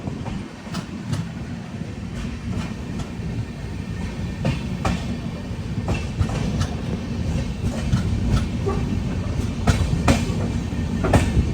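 A Ro-Ro freight train rolls past carrying lorries, with rhythmic clickety-clack of wheels over rail joints and a low rumble throughout, on the Konkan Railway.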